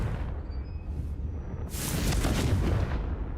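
A Confringo fire spell from Hogwarts Legacy bursts into a loud, broad explosive whoosh about halfway through, rumbling on over a low background hum.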